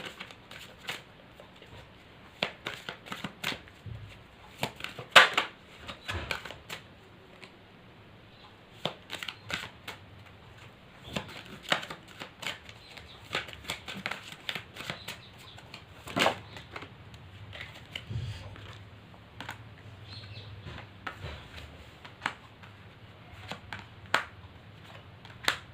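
Tarot cards being shuffled in a quiet room: soft, faint riffling bursts and light taps come in scattered clusters across the whole stretch, with no talking.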